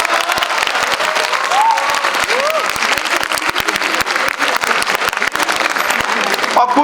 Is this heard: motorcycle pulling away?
no